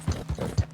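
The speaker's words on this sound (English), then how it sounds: "my horse complaining is the thing that sends me over the edge" A horse in Red Dead Redemption 2 lets out a short, complaining snort-like sequence, several quick rough pulses in under a second, close and clear with no talk over it.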